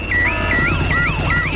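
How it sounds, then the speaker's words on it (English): A cartoon house alarm blares, a loud close electronic siren repeatedly warbling between two pitches in quick cycles with nothing else heard. "Daddy Pig has set off the noisy house alarm."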